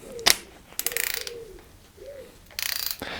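A torque wrench tightening the cylinder head bolts of a Peugeot 205 GTI engine to 60 Nm, heard as short close bursts of rapid ratchet clicking with brief metallic squeaks between strokes.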